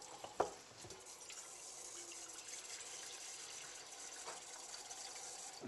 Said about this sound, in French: mettre de l'eau à chauffer pour pré-cuire nos pommes de terre